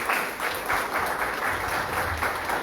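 Church congregation giving a strong round of applause to the Lord during an evening service, dense clapping rising and falling in waves, fairly loud and close, without speech.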